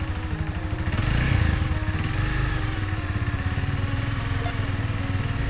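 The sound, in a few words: motorcycle engine running at about 2500 RPM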